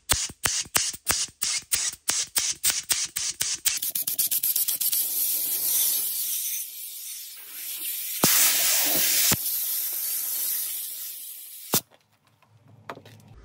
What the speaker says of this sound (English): now I'm gonna spray it, and it's gonna shoot all the debris out in this area